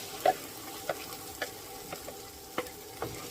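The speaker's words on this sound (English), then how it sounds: "So after frying this puree for some time" Soft, steady sizzling of a tomato-onion puree frying in a pan for paneer butter masala, broken by a few light clinks and scrapes of a spoon stirring at irregular intervals.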